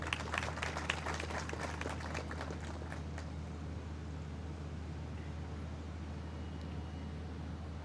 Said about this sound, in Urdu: تو پی سی بی کی ٹیم کے لیے بھی بہت ساری تالیاں پلیز۔